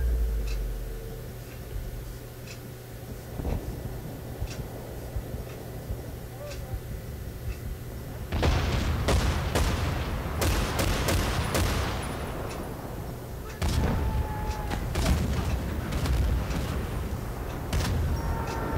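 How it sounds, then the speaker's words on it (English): Battlefield 1943 on Wake Island: a grenade blast and dense gunfire, with steady ticking and scattered shots giving way to a long, heavy stretch of rapid automatic fire and booming impacts, loud and continuous, with players talking underneath. "Someone throws a grenade."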